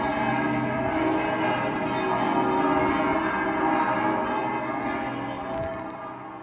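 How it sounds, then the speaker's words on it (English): Church bells in Zurich ring continuously for Sunday services, a rich layered clanging of several bells sustaining throughout without any talking. "I got to hear Zurich's many churches ring their bells for Sunday services."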